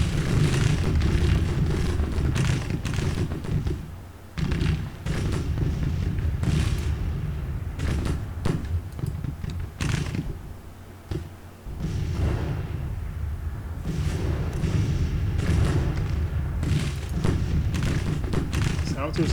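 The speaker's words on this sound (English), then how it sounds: "Howitzers are doing okay." Howitzer artillery fire in the Grand Tactician: Civil War game, repeated deep booms and thuds scattered irregularly across the battle, with someone talking over much of it.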